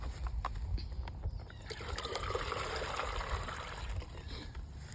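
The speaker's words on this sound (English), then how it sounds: "That's how quick this tree drips." Sap drips and trickles from a tap in a maple tree during syrup making, a soft, faint patter of liquid over quiet outdoor background noise, with no voices.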